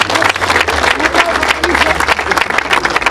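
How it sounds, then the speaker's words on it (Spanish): Applause from a crowd, dense and steady throughout, with voices mixed in underneath. "Un aplauso para Alicia, por favor."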